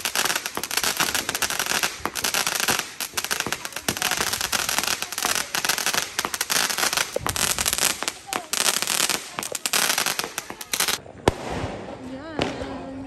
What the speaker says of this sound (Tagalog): Meron din mga paputok.